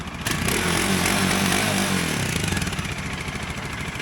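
A motorcycle engine fires up and revs hard in the streets of Buenos Aires, then settles into a loud, continuous riding drone with rapid pulsing beats, close and with no voices.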